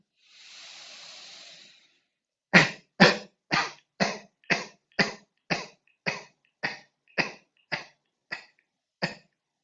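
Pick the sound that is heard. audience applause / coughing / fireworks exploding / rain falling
coughing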